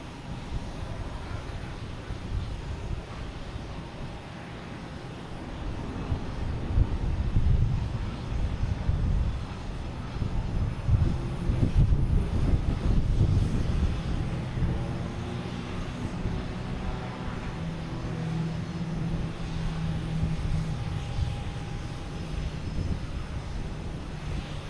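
An Avianca airliner takes off at Boston Logan Airport, a distant jet roar that swells and lingers over several seconds through outdoor wind noise.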